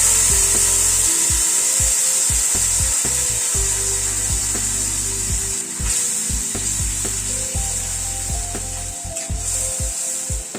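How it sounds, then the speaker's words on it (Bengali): Spice paste frying in a pan over a very low gas flame, a steady close sizzle running throughout with scraping and clinks of a utensil stirring against the pan. "এবার এই মশলাটা যেটা পেস্ট করে নিয়েছি সেটা দিয়ে দিলাম"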